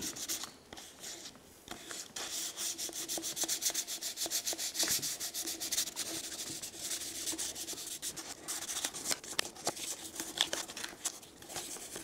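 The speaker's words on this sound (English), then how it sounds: "we're going to sand it down lightly with some 1200 grit sandpaper" Light hand sanding with 1200 grit sandpaper on the primed airframe of a 1/100 scale Estes Saturn V model rocket: steady, close rasping strokes that rub back and forth continuously, with no talking.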